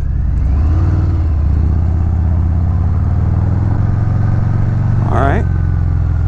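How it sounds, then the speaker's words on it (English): A 2019 Harley-Davidson Fat Bob fitted with a Reinhardt aftermarket exhaust rumbles loudly, a deep, steady engine drone close by with wind noise and a brief rising rev near the end. "Has a real good exhaust note. That's due to the Reinhardt aftermarket exhaust that's on here."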